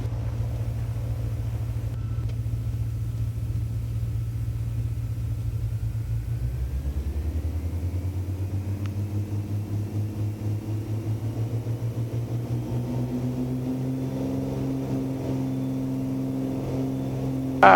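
A twin-engine Beechcraft Baron sits on runway 22, its engines droning low and steady, then swelling in pitch and power as they spool up for takeoff, heard from inside the cabin.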